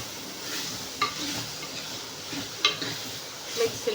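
Coconut roasting in a pan, giving a faint, close sizzle broken by soft scrapes and light taps of stirring at irregular intervals.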